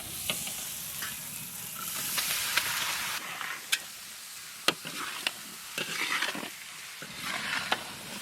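Prawns fry in a thick masala, a soft sizzle underlying sharp, intermittent clacks and scrapes of a spatula stirring against the pan, fairly quiet with gaps.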